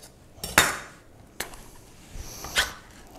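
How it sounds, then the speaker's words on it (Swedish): Cheese sauce is scooped into a small bowl with black cutlery, giving a few sharp clinks and scrapes of utensil against the bowl, spaced irregularly and close by in a quiet kitchen. "vi bara slår upp den i en liten skål"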